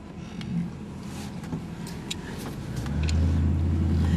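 A 1964 Mercury Comet Cyclone drives along with a steady, close engine rumble that swells louder and deeper in the last second as the car pulls away.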